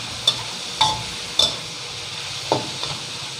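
Pork and shrimp stir-fry in a pan for dry suki, a quiet low sizzle broken by a handful of sharp spatula clacks against the pan at uneven intervals.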